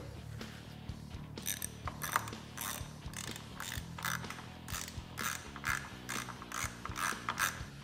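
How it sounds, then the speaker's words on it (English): A hand ratchet tightens 13mm bolts on a rear-view mirror mount of a Polaris RZR, making rapid, close metallic clicking in uneven bursts with short pauses between strokes and no voices. "Now we just need to tighten up these 2 13mm bolts."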